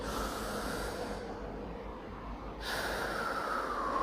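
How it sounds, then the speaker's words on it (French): A slow, steady inhalation during a cardiac coherence breathing exercise, a soft continuous airy rush held for several seconds close to the microphone, easing briefly before the breath flows again. "Donc vous allez inspirer"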